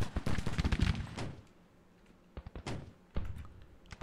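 Musket volley in Grand Tactician: The Civil War: a cluster of crackling shots bursts out together, then scattered distant pops and thuds follow at irregular intervals, fairly quiet overall.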